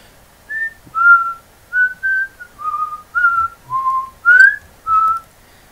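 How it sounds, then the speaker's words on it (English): A person whistles a short high-pitched tune of about nine clear, separate notes, close and loud, in an irregular melodic rhythm with no other sounds. "Now I'm going to whistle something and it should be red because whistling is high pitched"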